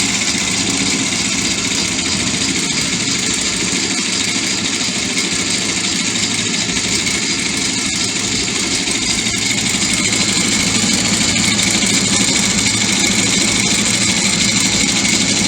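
A sewing machine runs steadily without pause while stitching two parallel gathering lines on fabric for a kids' peplum dress; the motor hum is loud and close.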